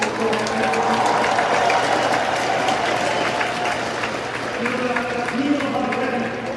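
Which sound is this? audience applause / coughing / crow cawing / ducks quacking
audience applause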